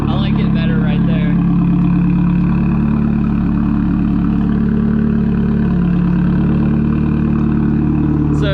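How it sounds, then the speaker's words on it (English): A straight-piped Nissan 240SX with a turbo idles loudly and steadily up close, giving off a rough, low exhaust drone. Someone talks over the engine almost the whole time. "listen to the turbo whistles"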